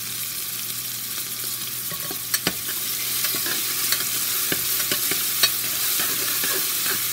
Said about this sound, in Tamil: வெங்காயம், தக்காளி நல்லா வதங்கணும்.